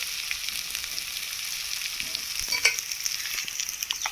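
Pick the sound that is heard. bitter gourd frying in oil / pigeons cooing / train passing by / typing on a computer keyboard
bitter gourd frying in oil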